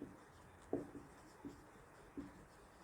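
A pen scratching across paper while a journal entry is written by hand: a few short, faint strokes spaced out over quiet background, with no talking.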